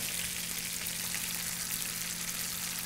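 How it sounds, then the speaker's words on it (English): Sliced potatoes sizzle steadily in hot olive oil in a pan, a close, continuous crackling hiss with no pauses and no voices. "Okay, potatoes going in, just be really careful. You want to hear a little sizzle here, but you don't want to burn that olive oil"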